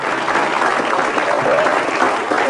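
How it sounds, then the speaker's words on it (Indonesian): Studio audience on an Indonesian talk show breaks into steady applause, a dense wash of many hands clapping at even loudness throughout, with no talk over it. "kita kasih tepuk tangan dulu lah ya"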